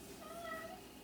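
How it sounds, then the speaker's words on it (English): A pet cat indoors gives a soft, drawn-out meow that is faint and close by, with room noise behind it. "Do you guys hear my cat?"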